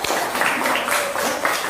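Applause from a classroom audience during a civics teaching session, a busy, continuous patter of many hands clapping at close range with small rhythmic swells and no speech over it.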